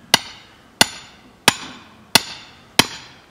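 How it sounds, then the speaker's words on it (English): A maul strikes a metal wedge driven into a log to split wood: five loud, sharp metallic blows at an even pace, each ringing briefly before the next, with no voices. "These wedges are designed to be hammered in with mauls."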